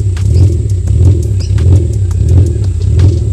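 BMW E46 drift build engine revving on a burble tune with swinging timing advance, producing a hunting effect: a steady, loud, close engine drone with rhythmic pulsing and clattering crackles throughout.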